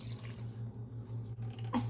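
One cup of water pours into a mixing bowl for cake pop batter, a soft, steady splashing trickle under a low hum, ending in a brief clink.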